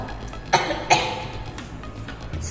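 A storyteller performs a short cough while voicing a wolf in an English storytelling competition, two quick raspy bursts close to the mic, followed by a faint breathy trail.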